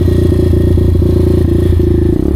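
A petrol dirt bike engine runs loud and close, with a steady rapid rasping pulse that holds steady before a brief dip near the end.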